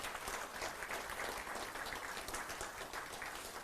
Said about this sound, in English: Give a round of applause for that.